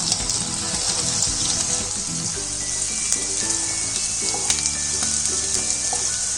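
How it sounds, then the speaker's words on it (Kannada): Green peas crackle and sizzle in hot oil in a pan for vegetable fried rice, a steady frying hiss with occasional stirring clinks and no talk. "ಈಗ 1 ನಿಮಿಷ ಫ್ರೈ ಮಾಡಿದ್ದೀನಿ ಬಟಾಣಿನ"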